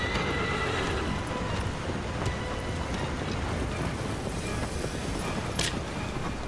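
A horse neighs and whinnies over clip-clopping hooves in the video game Shadow of the Colossus, set against a steady, dense bed of wind and rumbling ambience that runs loud throughout.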